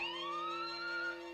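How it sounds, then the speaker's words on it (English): A continuous rising electronic alarm wails steadily in an animated He-Man cartoon, a sustained siren-like tone alone with no talking. "The alarm! Keep your eyes open, Cat."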